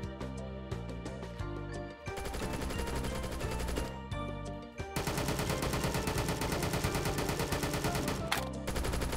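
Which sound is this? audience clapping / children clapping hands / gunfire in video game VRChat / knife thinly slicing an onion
gunfire in video game VRChat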